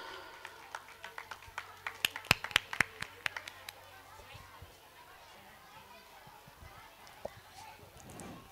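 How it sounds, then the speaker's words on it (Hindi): Clapping from an audience welcoming a poet onto the stage at a Hindi kavi sammelan, a short burst of scattered handclaps over a few seconds that fades to quiet room noise. "तो जोरदार तालियों से स्वागत कीजिए सात्विक विश्वास जी का।"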